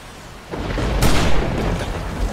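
A boom from an explosion in the zombie survival game 7 Days to Die, a loud sudden blast followed by a rumbling wash that lingers and slowly settles.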